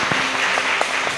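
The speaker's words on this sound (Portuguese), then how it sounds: "Pode aplaudir Ele bem forte." A church congregation applauding during a worship service, a short, steady wash of clapping from many hands with a few sharper claps standing out.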